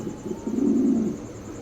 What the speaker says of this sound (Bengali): সাউন্ডটা কি দেখছেন হ্যাঁ ভাই ফুল অ্যাক্টিভ কবুতর না